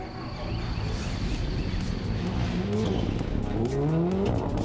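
A rally car drives hard with its engine revving up in rising sweeps and its tires squealing, loud and steady throughout with no talk.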